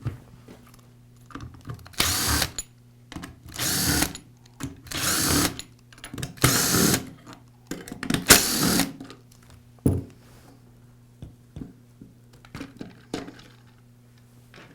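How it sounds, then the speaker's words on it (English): A powered driver backs the screws out of a DeWALT drill's housings in a series of short, loud whirring bursts, separated by quiet pauses and small clicks of handling. "Now remove the remainder of the screws that secure the housings."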